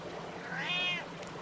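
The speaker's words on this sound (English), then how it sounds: "I heard a soft meow from below" A single soft cat meow, close and clear, rising then easing off over about half a second against a quiet background.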